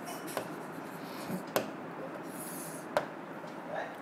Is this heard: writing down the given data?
yes